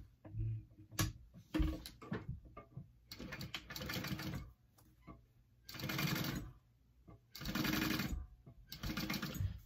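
A sewing machine basting a zipper onto a handbag panel runs in several short, rapid stitching bursts separated by pauses, close and fairly quiet.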